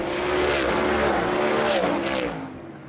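Supermodified race cars roar around an oval track during a feature race, a loud, dense blend of engines with a rising, sweeping pass in the middle that fades slightly toward the end.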